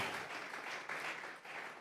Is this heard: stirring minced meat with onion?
no